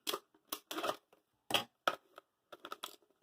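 A cutting tool snips through material in a series of short, sharp, irregular cuts with brief pauses between them, close and clear, no talking.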